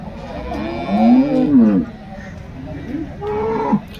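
At a cattle market in Loni, a cow lets out a drawn-out moo followed by a shorter second call, both fairly close and heard over faint background voices and market noise.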